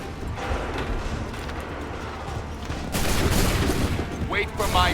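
Musket volley gunfire in Assassin's Creed III bursts out as a dense crackling fusillade, swelling louder in the second half amid battle noise and shouted orders.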